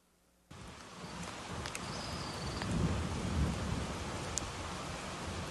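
Heavy rain pours steadily during a strong city thunderstorm, with rumbling thunder building underneath; the downpour starts abruptly and stays loud and close throughout, with no voices.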